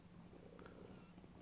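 A house cat purrs softly and steadily up close, a faint continuous rumble with nothing else heard.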